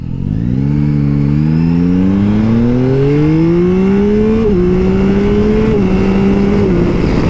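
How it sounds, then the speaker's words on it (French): Yamaha Tracer GT+ motorcycle with its stock exhaust accelerating hard, a loud close engine note climbing steadily through the gears with brief dips at each shift. "Bande son d'origine, hein. Il n'y a pas d'échappement dessus."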